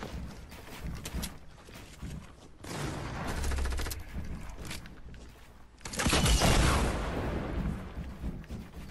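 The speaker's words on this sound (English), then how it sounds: "Rocket launchers are so spam." Rocket launcher fire and explosions in a shooter video game, with bursts of heavy booming blasts and rapid gunfire, the loudest barrage arriving near the end, dense and continuous.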